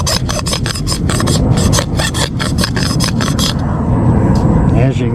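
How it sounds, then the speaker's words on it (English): A knife blade held upright is rubbed rapidly along wood to raise tinder shavings for a survival fire, a loud, close, rhythmic rasping that runs steadily, then gives way to a rougher scraping at the end. "Just get your knife and just rub it, hold it straight up and down."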